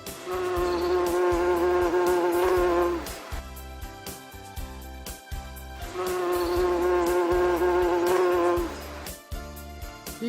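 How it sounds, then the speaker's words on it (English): An insect drones in a steady, loud buzz for about three seconds, stops, then returns for a second long stretch, with a rhythmic musical beat underneath throughout. "mosquito"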